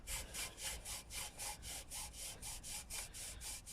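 A rag works Autosol polish back and forth on a car exhaust, a rapid, rhythmic rasping scrub repeating about four times a second, close and fairly quiet.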